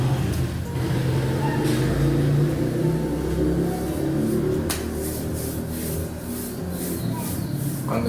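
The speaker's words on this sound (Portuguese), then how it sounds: "todas as motos barulhentas têm que passar por aqui" Noisy motorcycles pass on a nearby street, a continuous mid-pitched engine rumble that swells and revs unevenly over several seconds, with a faint voice underneath.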